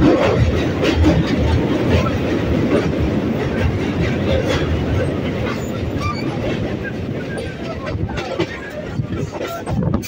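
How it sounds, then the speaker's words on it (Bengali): A local train on the Sealdah–Krishnanagar line pulls away from Kalinarayanpur station, with loud steady rumbling and rhythmic clickety-clack of the wheels heard from inside the carriage, with passenger chatter in the background. "এখন কালীনারায়ণপুর থেকে ট্রেনটা ছেড়ে দিল।"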